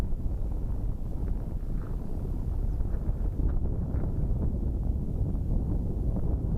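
Steady low wind roars and buffets the microphone throughout on the bare, snowy Col de la Seigne mountain pass, a continuous rumbling gust with no voices.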